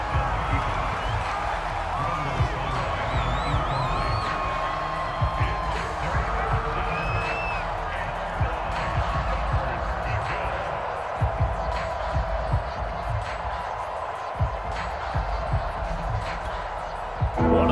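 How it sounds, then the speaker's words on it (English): A stadium crowd in the Madden NFL 22 football video game roars and cheers steadily ahead of a big third down, with a commentator talking over the sustained noise. "The crowd getting into it as we come up on a big 3rd down."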